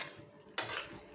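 Beef igado being stirred in a pan, a quiet scrape followed by a sudden bright metallic clank of a utensil against the pan, close and brief.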